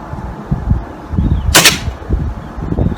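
A single pellet fired from a Kral air rifle, one sharp loud crack with a brief tail, set against quiet outdoor background rumble.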